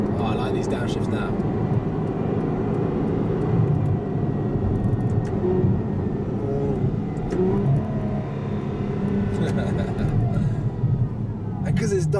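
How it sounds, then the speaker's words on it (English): A 730 bhp Ferrari F12 Berlinetta with double-clutch gearbox, its engine heard from inside the cabin as a steady drone with pops and blips during downshifts, while people talk over it. "Oh, I like these downshifts now."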